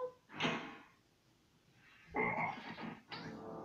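A pet frog croaks in short, burpy bursts: three separate calls close by, with quiet pauses between them and no talking.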